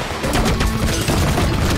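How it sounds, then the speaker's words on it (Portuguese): Dense gunfire from the video game Serious Sam: Tormental, a loud, continuous volley of overlapping shots and booms with no break across the stretch. "Vamos dar um tiro desse aqui."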